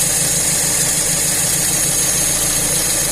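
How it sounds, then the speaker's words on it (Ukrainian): A VAZ 21081 car engine, tested after repair, idles steadily at close range, dropping revs and shaking; its low rumble carries a slightly uneven, pulsing shake. "Двигун скидає оберти і ним починає трусити."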